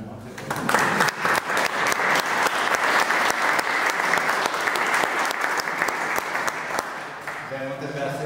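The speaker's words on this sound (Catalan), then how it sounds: "Un aplaudiment, no?" Sustained applause from an audience at a novel presentation in a cultural centre, dense even clapping swelling quickly and holding steady for several seconds before tapering, with a voice emerging at the end.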